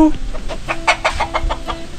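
Chickens cluck in a steady run of short, rhythmic calls nearby, with faint background noise and occasional voices.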